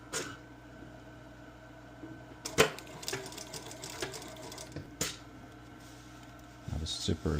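A sewing machine fitted with a zipper foot runs a short back tack at a 3/8 seam allowance while making a sukajan jacket, giving a low steady motor hum with a few sharp needle clicks, quiet and close.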